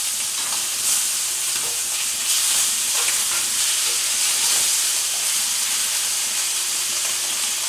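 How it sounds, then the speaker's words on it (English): Short ribs searing in a hot pan give off a steady, close sizzling hiss with soft crackles and spattering, continuous throughout with no talking. "Got about another 3 or 4 minutes on this sear"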